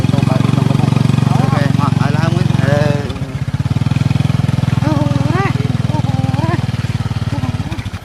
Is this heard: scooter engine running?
yes